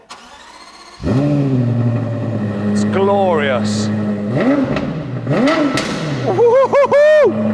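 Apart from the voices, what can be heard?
Lexus LFA 4.8 litre V10 engine cold start revving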